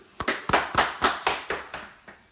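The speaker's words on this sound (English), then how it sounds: "Can we clap ourselves?" A church congregation claps together during a sermon, about eight distinct, fairly loud bursts of clapping in a steady, slightly uneven rhythm with no talking over them.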